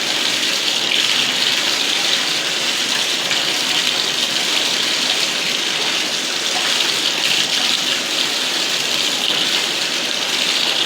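A tap runs hard and steadily for rinsing during freshwater cichlid tank cleaning, a loud, even rushing hiss of water with no pauses.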